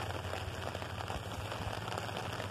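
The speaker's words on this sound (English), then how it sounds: "it's raining" Steady rain falls outdoors as a soft, continuous hiss of drops on surfaces, fairly faint and even throughout, with no voices.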